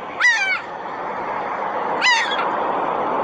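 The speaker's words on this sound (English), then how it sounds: "These are the seagulls down here." Two harsh, descending seagull calls ring out about two seconds apart, fairly close, over a constant background rumble.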